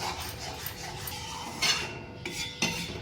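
A spoon scrapes and stirs thick besan barfi mixture with cardamom powder in a pan over low heat, giving steady soft rubbing with a few sharper metallic clinks near the end, no talking.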